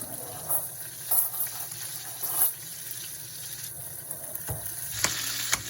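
Margarine and spinach frying in a pan beside sautéing chicken thighs, a steady close hiss with a few sharper crackles and spoon scrapes, no talking.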